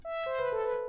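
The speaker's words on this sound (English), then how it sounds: "So this is just with the saw wave." A bright, buzzy saw-wave note from the Obsidian synth in NanoStudio 2 on iPad rises in, sustaining with a rich, harmonic edge as its tone shifts slightly.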